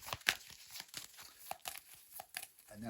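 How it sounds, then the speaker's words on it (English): Tarot cards riffle and slap in quick bursts, a papery crinkling shuffle close by with no voices. "So first of all, a good shuffle."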